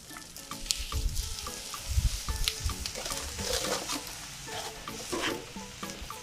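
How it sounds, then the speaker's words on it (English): Sliced onions sizzle in butter on a medium-high Blackstone griddle, a steady close frying crackle with spatula scrapes and stirring bumps throughout, no talking. "I'm going to put down 2 large onions"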